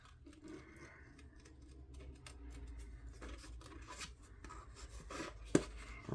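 Scissors fussy cutting around a paper wax seal embellishment, giving quiet snips and paper rustling close by, faint throughout with one sharper click near the end.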